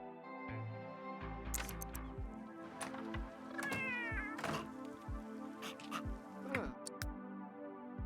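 Cat meowing in a Sims 3 game, with several short harmonic meows and wavering cries over a steady musical backdrop, mid-loud and fairly close.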